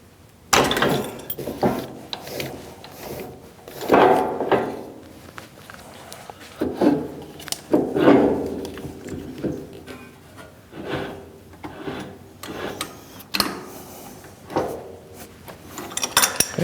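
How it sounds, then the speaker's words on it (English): Metallic clunks, knocks and scrapes as a lathe chuck is removed and swapped for a 4-jaw chuck in a workshop, irregular heavy handling bursts spaced across the clip with quiet gaps between. "So let's change the chuck out first."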